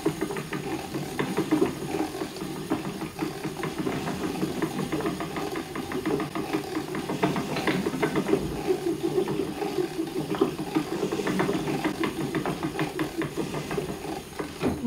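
A spinning wheel winding chain-ply, three-ply yarn onto its bobbin, a steady whirring drone with a fast, even mechanical ticking, close and continuous with no talking.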